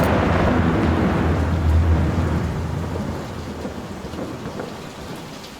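A thunderstorm in the horror video game Layers of Fear: heavy, steady rain pours down while a deep roll of thunder rumbles through the first seconds and slowly fades beneath the downpour.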